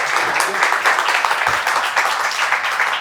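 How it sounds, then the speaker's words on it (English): An audience at a design meetup claps in steady, dense applause that runs loud and continuous from start to finish, with no voice over it. "Round of applause for Nathan."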